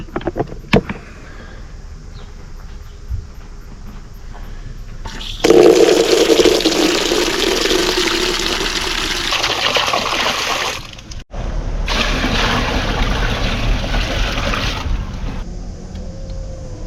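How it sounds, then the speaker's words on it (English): Filtered water runs into an empty RV water tank, a loud, steady rushing and splashing close by that starts after a quieter stretch, breaks off briefly and then carries on. "tank is filling up."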